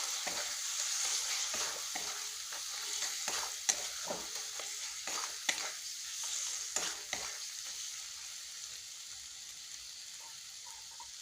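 Tomato, Kashmiri chili powder and salt sauté in hot oil for a paneer masala curry, a steady close sizzle broken by repeated scraping stirs of a spoon in the pan, with no talking.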